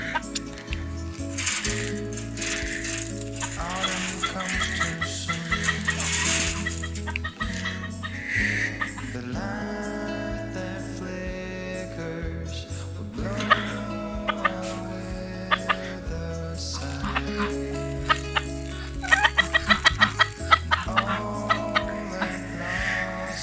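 A flock of backyard chickens clucking and calling while being fed a mix of corn, wheat, barley and oats, a busy overlapping chorus of clucks running steadily through the whole stretch.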